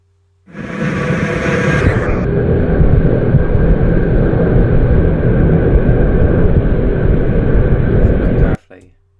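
A fixed-wing airplane passing overhead gives a loud, steady broadband roar that holds for about eight seconds before cutting off abruptly.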